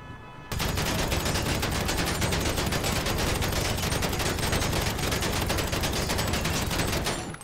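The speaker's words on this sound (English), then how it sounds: "I'm sure you can do it with the SMG. Just literally shooting the bottom, like bottom part of the rim." SMG fire in GTA 5 aimed at the bottom of a car's wheel rim, a loud continuous rapid-fire stream that starts abruptly and rattles on without pause for about seven seconds.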